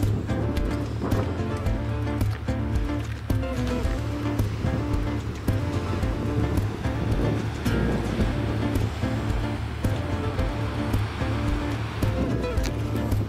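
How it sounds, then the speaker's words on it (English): Strong evening wind on the Lanzarote coast, a dense constant roar of wind and surf with a low rumble underneath, steady and loud for the whole stretch. "Now the sun's gone down, the wind's really picked up"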